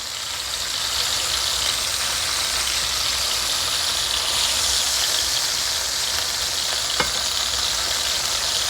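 Top round steak sears in a hot pan with a continuous, even hiss and crackle, close and fairly loud, with one brief sharper pop near the end.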